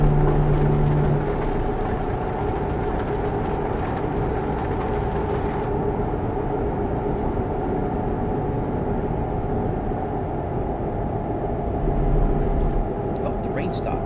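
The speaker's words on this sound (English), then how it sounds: "Oh yeah, the engine sound and the rain." Engine and rain in a Volvo driving simulator game: a steady, even engine drone holds for the whole stretch, with a soft hissing layer above it and a brief faint whine near the end.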